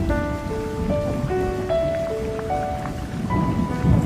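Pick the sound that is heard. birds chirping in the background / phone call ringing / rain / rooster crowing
rain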